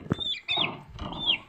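Young game-fowl chicks cluck and peep in short, high bursts while eating shrimp feed, three close chirpy calls in quick succession with no voices.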